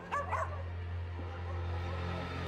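A cartoon dog from the animated series Batman Beyond yips and whimpers in short, fairly quiet bursts near the start, over a steady low hum and background score.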